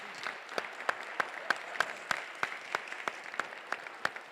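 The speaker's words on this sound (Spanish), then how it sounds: "Les pido un fuerte aplauso para agradecerles su intervención." An audience at a university colloquium claps in thanks after a talk, with steady applause and a regular run of sharper individual claps standing out on top, moderate in level and without voices.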